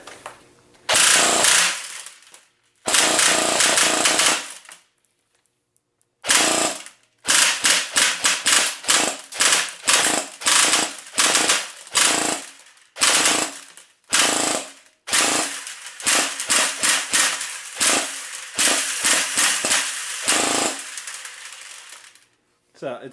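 A G36C airsoft gun fires BBs in loud, close bursts until the magazine runs dry. Long automatic strings are followed by a run of short rapid bursts, each a rattling mechanical clatter with sharp stops between them.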